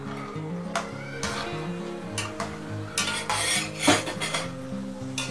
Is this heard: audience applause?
no